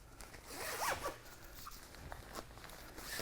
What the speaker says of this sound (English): you do a demo and the zipper gets caught.